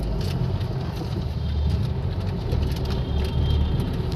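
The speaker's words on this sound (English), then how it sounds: "we got stuck in traffic" Kolkata city traffic rumbles in a low, continuous wash of engines close by, with passing vehicles and scattered higher rattles and horns over it and no talking.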